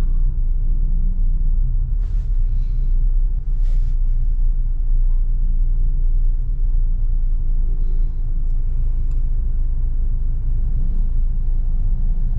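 Heavy road traffic passes near a skyway construction site, a steady loud rumble of engines with a few faint higher clanks over the low drone.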